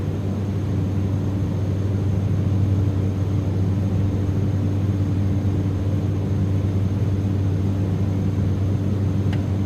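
A heavy Cessna Caravan climbs out after takeoff in a VR flight simulator, a loud, constant engine and propeller drone with strong low tones, steady from start to finish.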